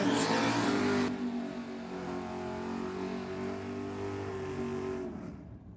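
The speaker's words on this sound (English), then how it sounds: "Hear those rear tyres just screaming to hang on to that racetrack" A race car's rear tyres scream as it fights for grip on a racetrack at a Ford versus Holden theme night, a loud sustained squealing whine over engine roar that holds for several seconds, then fades abruptly.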